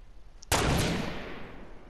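Sniper rifle shot in the battle royale game Fortnite, a single sudden loud crack with a long echoing tail that fades over about a second and a half, with no voices over it.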